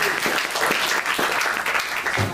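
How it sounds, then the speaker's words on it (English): Dense applause from an audience at a comedy Q&A event, continuous and fairly loud clapping close by for a couple of seconds. "Clap for Jason again for having me."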